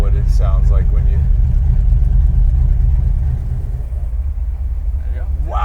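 A custom 1968 Shelby Mustang GT500 restomod idles with its exhaust closed, a steady low rumble close by that settles slightly quieter midway. Voices speak briefly over it.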